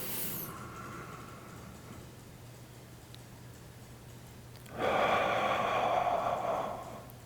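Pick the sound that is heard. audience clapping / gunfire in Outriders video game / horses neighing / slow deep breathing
slow deep breathing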